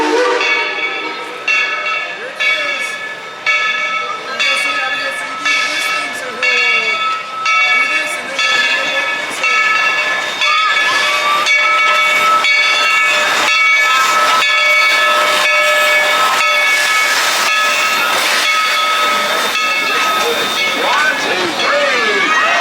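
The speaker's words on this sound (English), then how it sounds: "Oh, here comes the train." A loud steam train at Dollywood during its Smoky Mountain Christmas event hisses and chugs past, its shrill whistle sounding repeatedly in long blasts over rhythmic bursts of steam.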